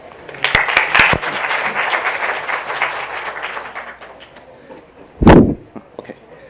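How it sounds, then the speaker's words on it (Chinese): Audience applause at a COSCUP 2015 open-source conference talk on big data, a sustained round of clapping in the hall that fades, followed by a single loud sharp burst near the end. "那让我们掌声欢迎他。"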